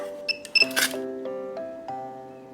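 A handheld iMark inkjet date printer stamps a cardboard box, giving a few short clicks and beeps followed by a brief whirring print pass, close and fairly loud, with no talk.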